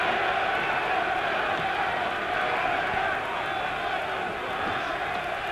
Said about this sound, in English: Tremendous German crowd here, ready to cheer this man on to victory if they can.